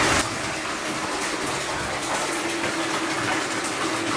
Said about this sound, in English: I am just putting water on the jacuzzi, the tub.